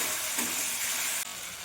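Masala spice paste frying in oil in a pan, a dense, bright, continuous sizzle heard close up that stays loud throughout, with a slight drop partway through.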